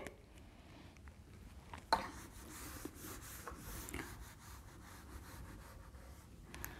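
A classroom board being wiped clean during a maths lesson gives a soft, steady rubbing and scraping, close and quiet, with one sharp knock near the start and no talking over it.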